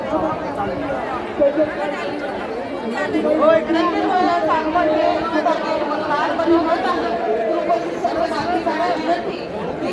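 A dense crowd chatters at the Siddheshwar Maharaj yatra in Solapur, a steady close wash of overlapping voices with no pauses.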